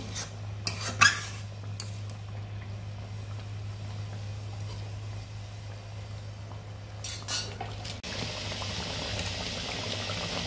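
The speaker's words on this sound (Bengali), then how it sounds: "তো 5 মিনিট আমি ফুটতে দেবো" Pabda fish curry simmering in a pan, a low steady bubbling hum with a couple of utensil clinks and light scrapes near the start and again later.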